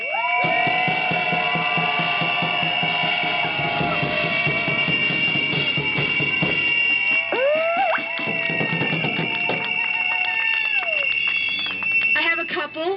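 A rally crowd roars and cheers continuously, a dense wash of voices with whistles and shrill alarm-like noisemakers blaring steadily on top, loud and sustained throughout.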